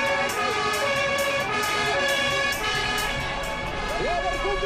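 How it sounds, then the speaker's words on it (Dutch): A fire engine siren wails at a street celebration, its rising and falling tone sounding through crowd noise as the truck heads for a public square. "Natuurlijk de sirenes."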